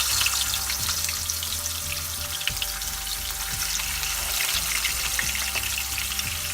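Pomfret fish shallow-frying in oil over a medium gas flame makes a dense, steady spitting sizzle with a low background hum, heard close and without speech.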